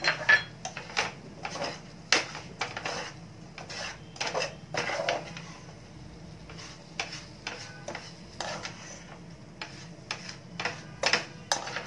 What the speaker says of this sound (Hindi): अच्छी तरह से इसको मिक्स कर लेते हैं।